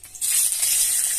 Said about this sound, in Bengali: তার জন্য কড়াইয়ে ফোড়ন দেব,